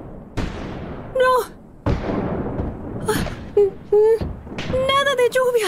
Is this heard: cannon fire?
yes